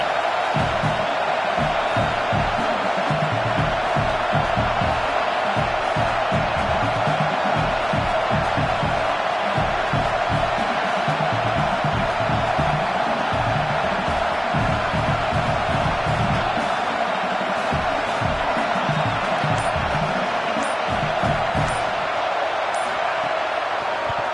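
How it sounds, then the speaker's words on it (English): A college football stadium crowd roars loudly and continuously before a late-game field goal attempt, a dense, sustained wash of cheering and shouting. "The crowd's going crazy"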